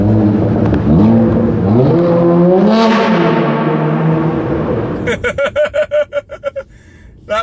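A BMW M5 engine revs and climbs in pitch, then settles into a pulsing burble with crackling exhaust pops, loud and close, driving indoors.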